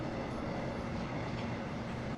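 Continuous loud low rumble and roar of a subway train in motion, steady and close as if heard from inside a carriage.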